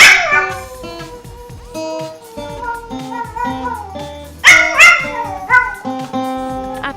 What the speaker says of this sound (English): a sing-along Shih Tzu gives it his best howl